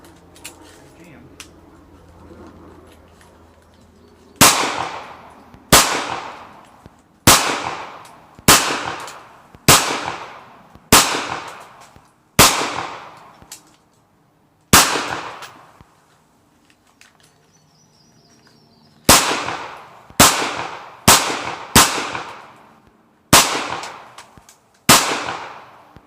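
Kel-Tec PMR-30 handgun fired at an outdoor range: about fifteen sharp, loud reports in quick strings and pairs, each with a short decaying echo, quiet gaps between volleys.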